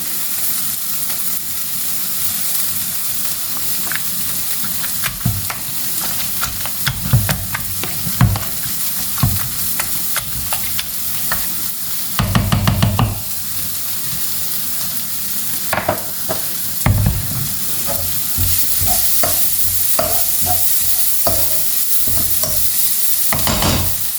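Onions sizzle steadily in a hot pan for a brinjal dish, with repeated scraping stirs and occasional louder clatters of a spoon against the pan; no one talks.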